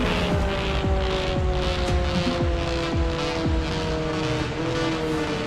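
Car engine in the racing video game Turbo Tornado Open World, a continuous loud engine drone with repeated rising rev sweeps as gears shift, no voices.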